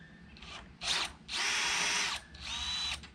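A power drill unscrews a screw from an RV awning in three close, loud whirring bursts separated by brief pauses, the middle run the longest, with no talk.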